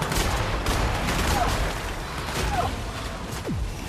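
Sustained gunfire in The Outer Worlds video game, a dense, loud rattle of repeated shots with sharp crackling impacts and a few electronic zips, running unbroken throughout.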